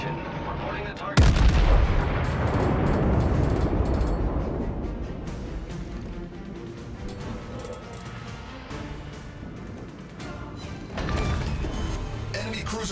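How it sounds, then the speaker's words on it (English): A heavy explosion as an enemy cruiser is destroyed in a naval video game, a sudden loud boom followed by a long rumbling decay, with a second swell of blasts near the end. "Enemy cruiser destroyed."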